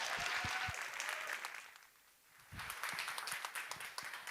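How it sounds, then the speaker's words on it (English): Audience applause at a Nordic women's investment summit, moderately distant, with a brief lull in the middle before the clapping picks up again. "Give applause to Rose."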